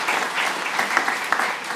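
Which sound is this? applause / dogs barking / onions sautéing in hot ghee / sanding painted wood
applause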